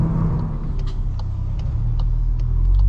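A Volkswagen MK8 Golf R pulls hard at full throttle, its engine a loud, steady low rumble that holds close and constant throughout with no one speaking.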